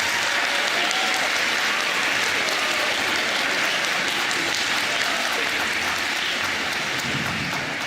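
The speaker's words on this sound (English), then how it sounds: "Can we give our students a big round of applause?" An audience at a middle school band and orchestra spring concert applauds the students, a dense, steady clapping that fills the whole stretch at full strength with a faint murmur of voices underneath.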